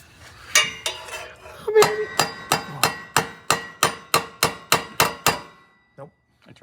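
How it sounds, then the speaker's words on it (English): A hammer strikes metal on the exhaust of a 1956 Ford Thunderbird, about a dozen sharp ringing clangs in a steady rhythm roughly twice a second, close and loud, followed by brief quiet and faint knocks. "Let me see the hammer."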